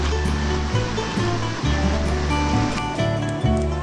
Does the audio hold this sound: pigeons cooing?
no